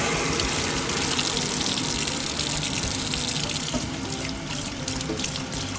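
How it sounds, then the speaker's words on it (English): Tap water gushes steadily into a stainless steel sink in an Airstream trailer, rinsing it out with a continuous close splashing rush that lasts throughout. "Just rinse off that area."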